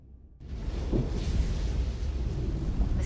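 Star Trek Resurgence game storm: a broad, steady roaring rumble that swells in suddenly after a near-silent start and holds loud and dense without pause.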